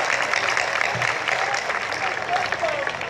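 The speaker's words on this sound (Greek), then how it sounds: "Ένα μεγάλο χειροκρότημα για αυτούς τους ανθρώπους" An audience applauding at a festive gathering in Greece, a sustained, even wash of many hands clapping with a murmur of voices blended in.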